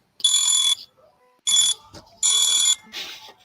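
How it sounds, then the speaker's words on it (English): An intense electronic alarm blares in loud repeated bursts, three long shrill beeping blasts separated by short gaps, with a person speaking faintly between them. "That's a really intense alarm there."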